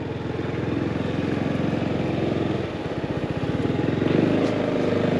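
Motorcycle ridden slowly through a cone weave by a learning rider, a close, steady low engine putter with a rapid pulsing beat that dips briefly midway and then picks up again.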